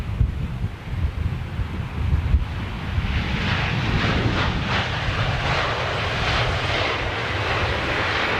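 A jet airliner passes overhead with a broad rushing roar that builds and holds, with wind buffeting the microphone in the open air and no voices.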